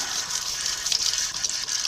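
A small stream of water from a tap runs into a sink during electrolysis rust-removal cleanup, a steady close hiss and splash heard alone.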